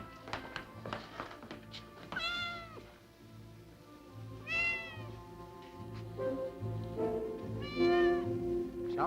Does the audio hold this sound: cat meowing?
yes